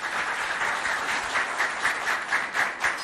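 A crowd at a school event applauds loudly and steadily, a dense continuous wash of clapping with no voices over it.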